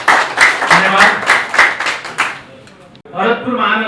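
An audience at a hotel training event claps in a burst of rhythmic, roughly even claps for about two seconds before the applause fades, then a voice speaks over a lighter spatter of claps.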